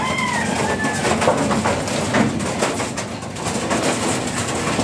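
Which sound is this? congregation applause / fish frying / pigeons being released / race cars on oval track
pigeons being released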